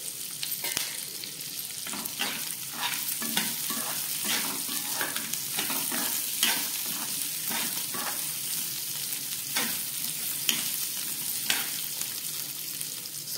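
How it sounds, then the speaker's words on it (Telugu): Garlic, ginger and coriander frying in a pan with a steady sizzle, broken by regular scraping strokes of a spoon stirring throughout, close and continuous with no talking. "శుభ్రంగా కడిగి పెట్టుకున్న కొత్తిమీర వేసి బాగా ఫ్రై చేసుకోవాలి."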